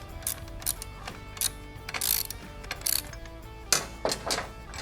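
A ratchet loosening the top pinch bolts on an M8 Softail motorcycle gives off bursts of clicking pawl and metallic mechanical clatter, close and moderately loud, in several short runs separated by pauses.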